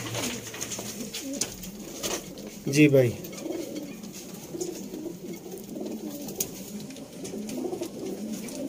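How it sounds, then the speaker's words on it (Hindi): Sialkoti Shekhan pigeons coo softly at a park, a brief low burst of cooing standing out near the middle over steady outdoor background, with a short spoken phrase from a man. "लाल चिड़ी पार्क च दोस्तों शेखां वाले कबूतर माशाअल्लाह"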